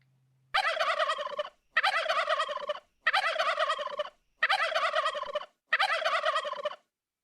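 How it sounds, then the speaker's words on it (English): Five loud, rattling gobbles from a wild turkey, evenly spaced with short pauses between them, close by and with no talking. "so going to the gobble"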